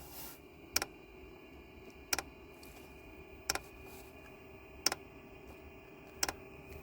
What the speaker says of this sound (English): So the fuel pump just started clicking.